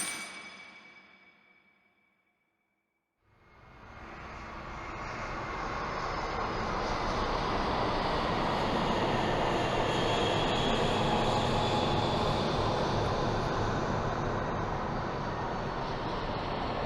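An airplane passes overhead as a broad, steady roar that swells in after a short quiet gap and then holds loud and even for many seconds.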